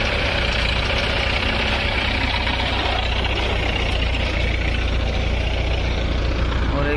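A JCB excavator-type machine idles steadily during roadwork, its diesel engine giving a constant low rumble with a faint knocking texture. It sits fairly close and loud, with no talk over it throughout.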